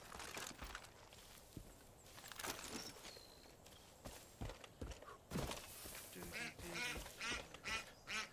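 Ducks quack in the Far Cry 5 video game, set among clip-clopping hooves and footsteps. The calls come as several loud, close bursts, scattered and uneven.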